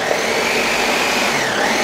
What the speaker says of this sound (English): This is a horrible blender.